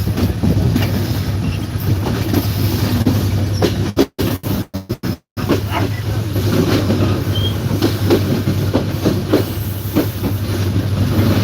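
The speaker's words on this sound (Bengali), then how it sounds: "ছেড়ে দিল আমাদের ট্রেনটি" The Kapotaksha Express passenger train rumbles steadily along the tracks, loud and close, with a low constant drone and brief dropouts midway.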